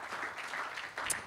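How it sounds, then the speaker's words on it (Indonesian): A church congregation applauding the service team, a short burst of steady, fairly close clapping from many hands lasting just over a second. "Mari kita berikan tepuk tangan buat teman-teman pelayan hari ini."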